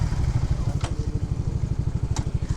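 A motorcycle engine runs on a mountain road near Baguio in Benguet, a steady rapid low putter with even pulses, close and loud, with a couple of brief sharp clicks over it.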